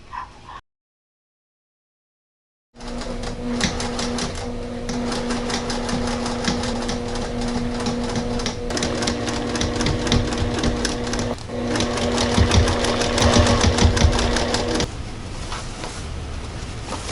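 A sewing machine stitches a dress tier in a steady, rapid run of needle clatter, loud and close, with a brief start, a pause and then continuous stitching with slight speed changes.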